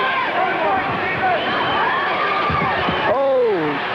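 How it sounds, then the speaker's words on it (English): Boxing crowd on its feet roaring and cheering inside the Georgia Tech Coliseum during a bout, a steady wash of voices with a commentator talking over it. "Boy, this crowd's on their feet here at the Georgia Tech Coliseum."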